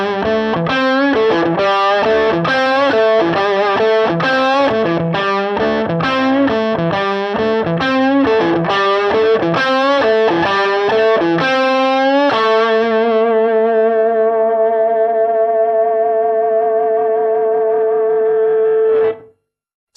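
A distorted electric guitar through a Two-Rock amp with the EQ bypassed plays rhythmic chords, then lets a final chord ring out and sustain before it cuts off abruptly.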